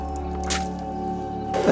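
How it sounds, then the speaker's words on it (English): Water being emptied out of sand to clear away mud, a wet squelching slosh with dripping and a brief pouring splash at the end, close and alone. "And we empty the water again to get rid of any mud."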